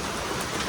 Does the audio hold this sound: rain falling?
yes